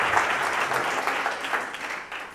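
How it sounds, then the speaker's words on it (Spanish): An audience applauds a speaker after a talk on family constellations, a steady wash of clapping at moderate level with a faint voice underneath. "Un aplauso para Adrián"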